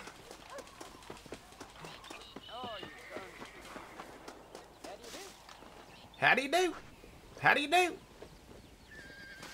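Horse in the Red Dead Redemption video game walking with clip-clop hooves, then two loud neighs near the end, with someone talking briefly over the quieter footsteps.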